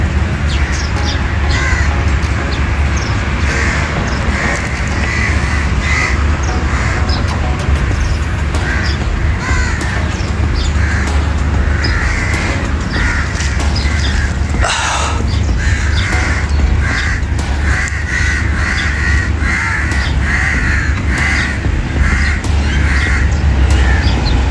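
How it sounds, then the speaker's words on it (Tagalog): A large flock of crows caws loudly and repeatedly near an outdoor spot where water from a hose has pooled, with overlapping harsh calls over steady background noise and no talking. "O, dami uwak."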